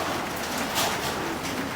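Soft, continuous cooing of pigeons close by in a loft during a typhoon, a low murmuring texture with a slightly louder swell midway.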